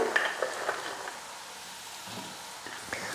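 Pakoda pieces tumble into a pan of frying onions and get stirred, with a steady soft sizzle, a few light clinks and scrapes of the spoon near the start and end, no talking.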